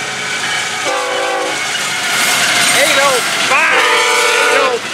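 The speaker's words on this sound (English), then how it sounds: "Great train." A passing train sounds its horn in two long chord blasts, with rumbling rail noise underneath and a voice talking over it.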